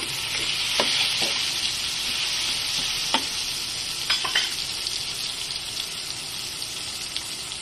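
Red onion sizzles steadily in hot oil in a pan while being sautéed for creamy beef with mushrooms, a continuous close frying hiss broken by a few sharp clicks of a utensil against the pan.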